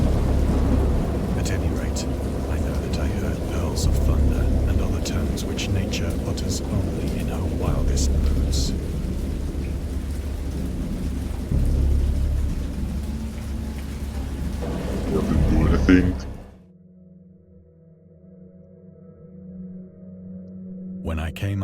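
A thunderstorm with steady heavy rain and rolling peals of thunder, loud and continuous, cutting off abruptly near the end into a quiet low hum.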